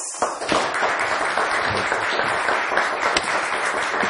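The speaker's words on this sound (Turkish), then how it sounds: "Bence daha kuvvetli bir alkış lazım." Studio audience applauding on the Turkish word quiz show Kelime Oyunu: steady, moderately loud clapping from a crowd that carries on evenly for about four seconds.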